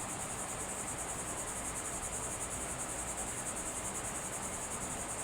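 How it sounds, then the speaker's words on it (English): Crickets chirp in a continuous high, pulsing trill, steady throughout with no voices, like a calm evening outdoors. "Hear my crickets?"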